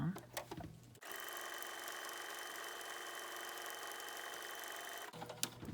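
Sewing machine stitching across a fabric signature booklet, a steady close mechanical whir running for about four seconds, framed by brief handling noises at the start and end.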